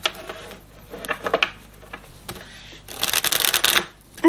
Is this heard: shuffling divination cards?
yes